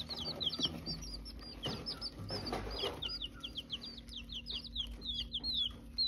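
Baby chick peeping: a rapid series of high, thin chirps repeats close by over faint background noise and a few soft knocks.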